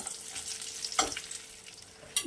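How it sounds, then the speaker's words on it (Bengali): Bori, small sun-dried lentil dumplings, fry in oil for a Bengali pabda fish curry, giving a soft steady sizzle broken by a sharp stirring clatter near the middle and another brief scrape at the end. "বড়িগুলো ভাজা হয়ে গেছে, এবার এটাকে আমি তুলে রাখবো।"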